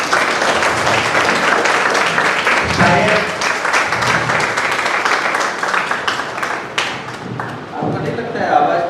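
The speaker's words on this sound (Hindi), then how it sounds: "एक जोरदार तालियां तो हमारे विनोद जी के लिए बनती है।" Loud, sustained applause from an audience in an auditorium at a health talk on fasting, dense clapping that fades near the end as a voice begins speaking.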